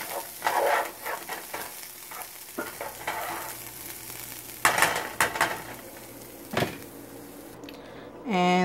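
Brown whole-grain rice sizzles gently in a pan on low heat, broken by several scraping stirs and clinks of utensil against cookware, with a brief clatter near the end.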